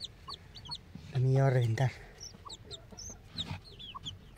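A mother hen of a small breed clucks and calls near hatching chicks, with a loud drawn-out cluck in the middle and high chick peeps scattered throughout, under a person speaking Spanish.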